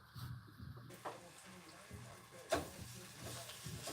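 Food frying in a crowded pan gives a low steady sizzle with a few stirring clatters and a sharp knock midway, close by, with someone talking faintly in the background.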